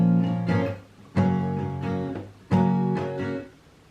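A guitar strummed on one chord in a down, down, up pattern, three bright harmonic-rich strums per group repeated twice, close and clear with no talking.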